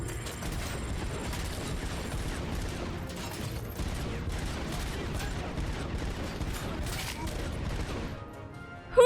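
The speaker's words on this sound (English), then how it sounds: "Who is still shooting at me?" Rapid, continuous video game gunfire with mechanical clatter, loud and dense for about nine seconds, ending in a sudden burst.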